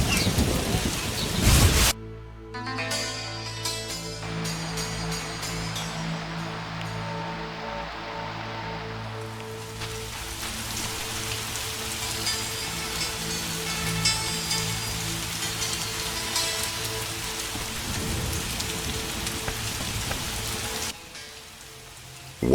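Rainstorm with thunder in the fantasy role-playing game The Witcher, a close thunder crack at the start followed by a long steady rain hiss with faint low rumbles and a soft music bed underneath.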